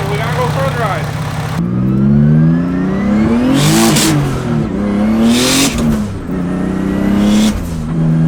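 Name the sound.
turbocharged car engine warming up before test drive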